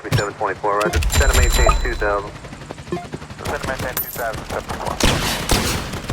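Rapid gunfire and explosions in the Roblox-style game Tower Defense Simulator, dense and continuous across the whole stretch, with a player's excited voice talking over the shooting.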